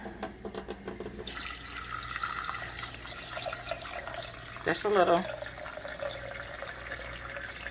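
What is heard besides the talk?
water poured into a pot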